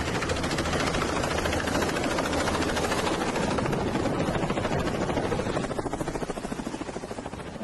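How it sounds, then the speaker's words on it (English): Helicopter making a quick drop-off, its rotor chopping loudly and close with a steady rapid pulse and broad engine roar that eases slightly toward the end. "This helicopter pilot doing a quick drop-off."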